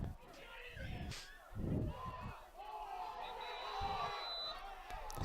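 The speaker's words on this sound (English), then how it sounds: "upset crowd" A crowd at a boys' high school lacrosse game reacting in a sustained roar of shouting and jeering, with loud swells throughout and voices mixed in.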